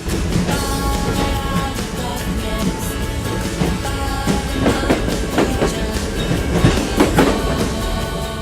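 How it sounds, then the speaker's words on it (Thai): A Shinkansen high-speed train rushes past with a dense, steady roar and rhythmic clacking of wheels on track, loud and continuous throughout. "นี่คือชีคันเซน"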